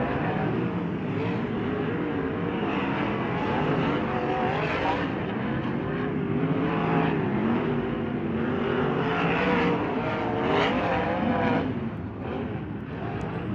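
Race cars roaring around Ventura Raceway during the Turkey Night Grand Prix, a continuous loud engine drone with shifting revving tones and no pause.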